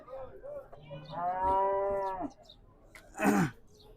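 A cow at a cattle market moos loudly for about a second in a long, drawn-out call, followed by a short rough bellow, with faint background noise around.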